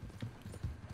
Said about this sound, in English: Too bad you cannot catch my horse.